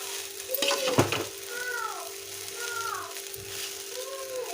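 Sabudana khichdi sizzles steadily in a pan on the stove, with a few close stirring scrapes early on. The frying stays fairly quiet throughout.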